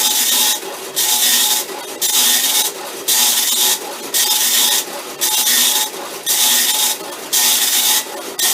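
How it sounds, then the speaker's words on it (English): A loud, raspy vintage tractor feed printer on a Commodore PET chattering in regular bursts about once a second, each burst of harsh buzzing separated by brief quieter pauses. "These printers were loud, by the way."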